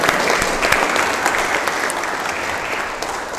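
An Indonesian audience at a leadership talk bursts into applause, with many hands clapping in a dense, steady patter that stays loud throughout the short stretch and tapers only slightly at the end.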